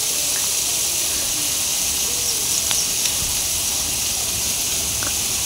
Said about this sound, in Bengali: এখানে আমি লেসরা আর আলু ভেজে নিচ্ছি।